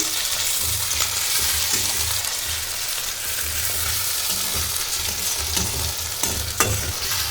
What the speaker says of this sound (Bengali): এবার আমি দিয়ে দেবো বড় চামচের 1 চামচ আদার পেস্ট। নাড়িয়ে নিচ্ছি।